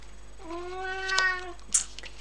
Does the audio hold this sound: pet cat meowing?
yes